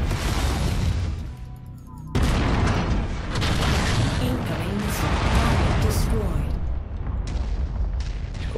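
Mechs in MechWarrior 5 fire weapons in a dense barrage of booms and blasts, loud and continuous after a brief lull near the start, with someone speaking over the combat.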